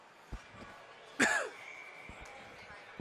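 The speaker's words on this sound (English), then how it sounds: "Sorry about coughing in the mic here." A single sharp cough lands right on the microphone of a commentator calling a junior ice hockey game at Harbor Center, loud and close against faint arena background noise.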